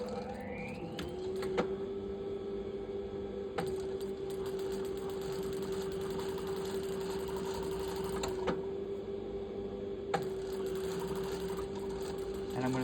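A sewing machine runs steadily and close, stitching a jet pocket into a garment lining with a continuous whirring hum broken by brief pauses and clicks.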